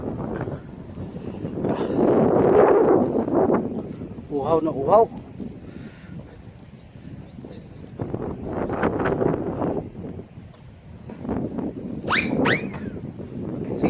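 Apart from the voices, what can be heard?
strong wind blowing on a boat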